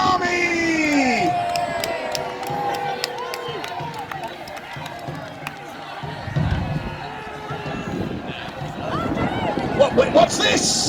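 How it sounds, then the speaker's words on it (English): A crowd at a Battle of Hastings reenactment cheers for the Norman champion, with scattered shouts, whoops and voices rising and falling, loudest near the start and end. "So cheer now for the champion of the Norman army!"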